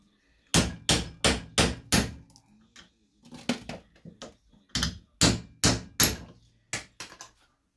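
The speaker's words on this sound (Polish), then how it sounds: "Nasz przyjaciel młotek, jakby nie było." A steel hammer pounds metal while a greasy shaft is being removed in a home workshop: a quick burst of five loud, sharp strikes, a few lighter taps, then another run of heavy blows, all close up with no talking.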